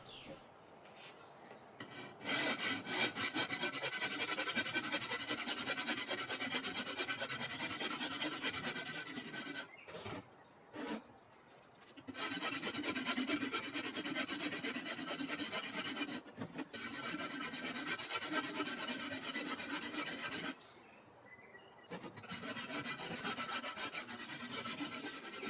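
Aerated concrete slab for a penguin sculpture's neck piece being grated flat by hand, a steady close rasping scrape running in long stretches broken by two short pauses.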